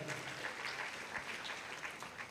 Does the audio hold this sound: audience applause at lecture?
yes